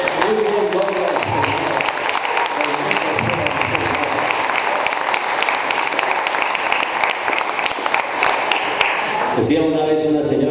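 Church audience applauding steadily throughout, dense clapping with voices mixed in, loud and sustained.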